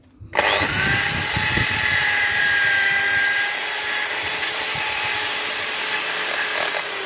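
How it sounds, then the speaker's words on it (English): Power wire brush scouring rust off a Rover 45 rear brake drum: a loud, continuous high-pitched whirring grind that starts abruptly and holds steady without pause. "just wire brush the rust off before we treat"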